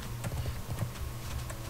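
Horse hooves clip-clop in World of Warcraft, a faint, steady rhythmic patter of soft thuds repeating through the short stretch with no talk over it.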